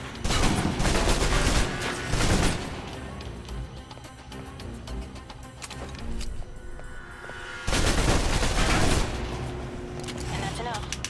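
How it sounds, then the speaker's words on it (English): Rapid bursts of submachine gun fire in the video game Alpha Protocol, loud and dense during close-quarters fighting, coming in heavy clusters with a brief lull between volleys. "If you're trapped in close quarters with multiple opponents, the SMGs can help clear the room quickly. Not subtle or quiet"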